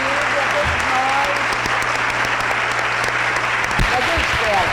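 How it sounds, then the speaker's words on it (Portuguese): Sustained audience applause fills the room at the close of a debate, dense and steady throughout with a low hum underneath and faint voices mixed in. "Então vamos só aplaudir, né?"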